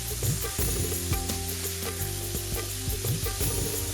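Onion-tomato masala with chilli powder frying in a pan for butter paneer masala, a dense close sizzle with repeated scraping and tapping of a spoon stirring it through.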